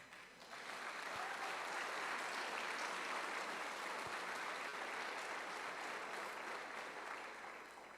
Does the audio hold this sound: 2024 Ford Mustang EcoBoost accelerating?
no